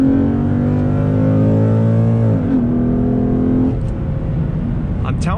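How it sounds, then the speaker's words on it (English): A 2014 Ford Mustang GT California Special pulls away under acceleration, its V8 engine note loud and close, rising in pitch and then dropping as it shifts gear, with a brief voice over the engine. "let's do a little acceleration"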